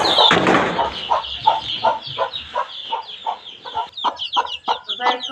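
Chickens cluck in a steady run of short, close, loud calls, with a sharper squawk near the start.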